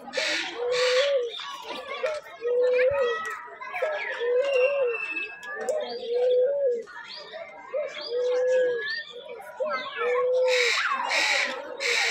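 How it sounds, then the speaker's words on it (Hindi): Birds in a zoo aviary in Indore, with a dove repeating a low rhythmic coo amid bright chirps and whistles from other birds, close and lively throughout. "बड़ी बढ़िया बढ़िया साउंड करते हैं, बहुत ही अच्छी आवाज़ निकालते हैं पक्षी।"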